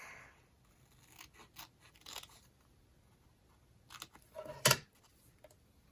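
Scissors snip through clothing tags and stickers in a quiet room, a few faint close cuts and crinkles spaced irregularly, ending in one sharper, louder snip.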